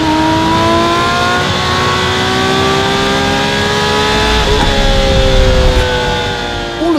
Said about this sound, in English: because it's a 1989 911, it sounds amazing.